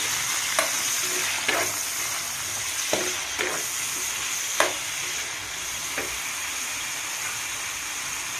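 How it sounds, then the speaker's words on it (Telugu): Tomatoes and salt frying in a pan, with a steady close sizzle running throughout and occasional sharp stirring clicks and scrapes from a utensil. "టమాటాలు వేసుకుందాం. టమాటాలు బాగా మగ్గాలి."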